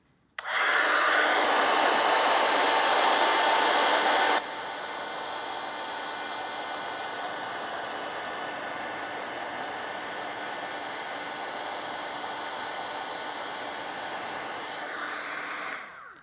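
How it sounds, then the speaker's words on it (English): A heat embossing tool blows hot air over wet paint on embossing powder in a watercolor resist project. It gives a steady, loud, hair-dryer-like whoosh that is strongest for the first four seconds, then continues at a lower setting without talk. "Could I just hit it with my heat tool to speed it up?"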